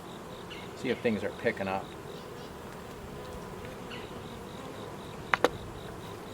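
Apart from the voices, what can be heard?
honeybees buzzing in an open beehive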